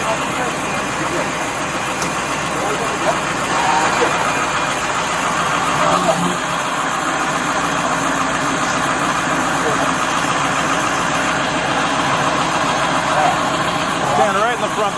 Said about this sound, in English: They didn't have him turn off his truck before they started talking to him.